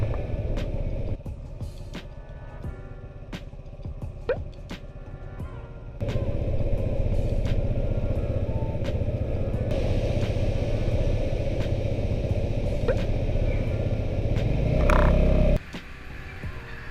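A scooter rides along a road in Japan, its small engine humming steadily with mild creaks and bumps, the tone swelling louder partway through as it accelerates, with no talk.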